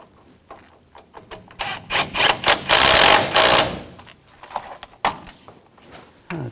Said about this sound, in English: Snug the bolt down.